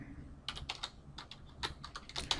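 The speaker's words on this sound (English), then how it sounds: "delete that and start typing in Bezier" Typing on a computer keyboard at a desk, a quick uneven run of close, crisp key clicks over a faint low hum, with no voices.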